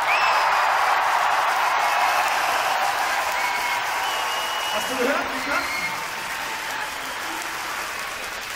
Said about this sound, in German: dann jetzt für einen richtigen Applaus!